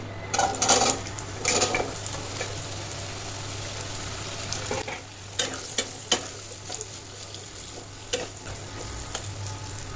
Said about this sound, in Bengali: এবার আমি এর মধ্যে প্রথমে মিষ্টি কুমড়ো আর আলুটা দিয়ে ভাজবো